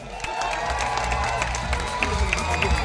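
A small group claps and cheers during a selfie moment at a meet-up with a music director, steady mixed applause with some voices in the crowd, moderately loud throughout.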